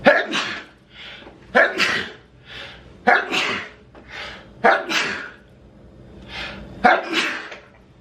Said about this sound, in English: Oh God, I'm gonna sneeze.